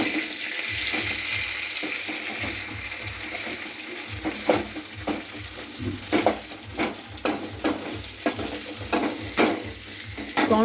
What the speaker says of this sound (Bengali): টমেটো দিয়ে একটু ভেজে নেব বন্ধুরা দেখো